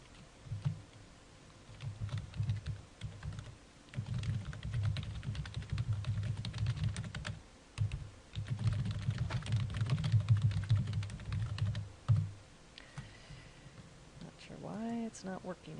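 Someone types on a computer keyboard, bursts of quick soft key clicks with pauses between, while a person talks throughout and a short squeak sounds near the end.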